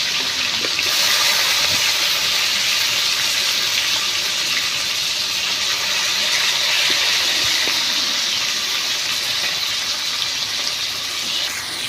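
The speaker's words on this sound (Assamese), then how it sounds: "তেলখিনি দিয়াৰ পিছত ইয়াতে তেলখিনি গৰম হৈছে প্ৰায়, তেতিয়া মই মাছ এক পিচকৈ দি দিছোঁ।" Fish pieces frying in hot oil make a steady, loud, dense sizzle that holds evenly throughout, close up, with no talking.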